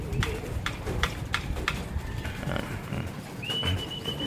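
Pigeons coo and call in a low, repeated rhythm at a bird-keeping loft, with a few sharper calls, a brief flutter and a thin whistle near the end, all at moderate distance.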